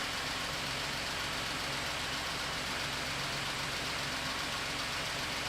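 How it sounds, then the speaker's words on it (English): A 2017 Ford F-150 with a swapped 3.5L EcoBoost engine idles steadily up close, a loud dense mechanical hum with the ticking clatter of the high-pressure fuel pump running through it, no voices. "A little louder on this side from the fuel pump, high pressure fuel pump."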